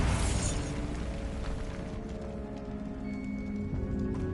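Bombarda blasting spell in Hogwarts Legacy: a loud, dense explosion that opens the clip and rolls on as a continuous crumbling roar of debris, slowly easing off.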